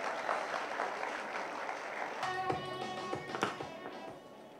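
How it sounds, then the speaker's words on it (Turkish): Outdoor crowd of residents at a public event in Demirtaş, Bursa, applauding the mayor, steady clapping throughout with sharper taps and some tonal background noise joining midway. "Bu konuda Ali Nur Başkanımıza alkış rica ediyorum"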